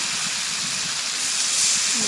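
Water hits a hot frying pan with potatoes and spices, giving a sharp steady steam hiss that swells toward the end of the brief moment, close by.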